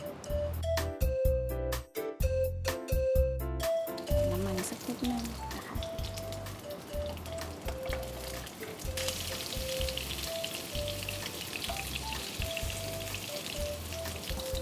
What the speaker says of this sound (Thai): แล้วเราก็จะใส่ชิ้นของแซลมอนลงไปนะคะ